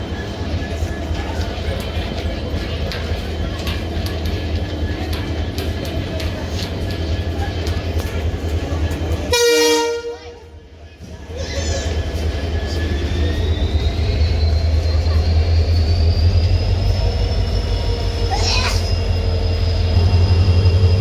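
A train rumbles past steadily with wheels screeching and squealing along the rails, broken by a brief hush, then a rising whine.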